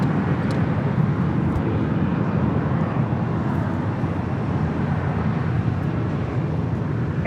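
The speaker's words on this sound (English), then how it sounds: "777 lining up for departure" A Boeing 777 freighter departing at LAX fills the air with a steady, broad, loud jet roar that holds without change throughout, with no voices over it.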